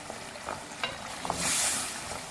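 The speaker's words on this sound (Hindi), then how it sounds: "अच्छी तरह से भूनेंगे" Masala for dal fry is roasting in a pan with faint, steady sizzling. A few soft clicks of stirring come near the start.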